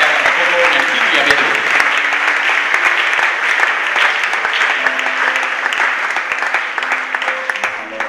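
A church congregation claps loudly and steadily for the Lord, sustained applause with a few voices mixed in.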